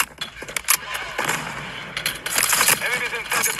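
Gunfire in a shooter video game, a rapid burst of sharp shots followed by dense sustained automatic fire that grows louder toward the end, with game voice callouts mixed in.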